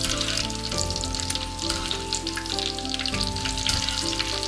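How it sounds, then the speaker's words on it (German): Oyster mushrooms deep-frying in oil heated to 180 degrees, giving a steady, dense sizzle that carries on unbroken, with a tonal music bed running underneath and no talking. "Die Austernpilze goldbraun frittieren."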